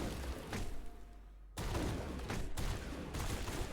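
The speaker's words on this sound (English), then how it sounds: "Nice shooting, Garrus." Rapid bursts of gunfire in the Mass Effect video game, loud and close, with a sharp volley near the start and sustained shooting through the rest, heavy and dense with no talking.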